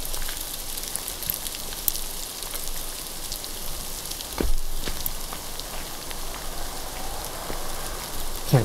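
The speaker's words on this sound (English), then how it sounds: "it's starting to hail down now" Hail falling near trees at an abandoned resort in China, a steady dense patter on surfaces throughout with a brief louder burst midway.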